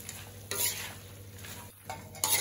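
Mutton fry being stirred in a pan with the stove switched off, giving a few broad scraping sweeps with a soft residual sizzle underneath, close and moderately loud, no talking.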